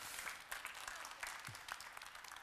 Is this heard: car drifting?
no